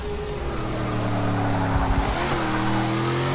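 A BMW X5 driving in the racing game Forza Motorsport 6, the engine note rising and then dipping as the car shifts gear, loud and close with a brief scuffing tire sound partway through.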